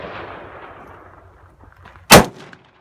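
A single sharp 10mm gunshot firing a 180 grain XTP load over a chronograph, loud and close, cracking out after a soft stretch of low background rumble.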